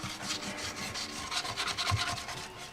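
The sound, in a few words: sanding motorcycle fairing to roughen surface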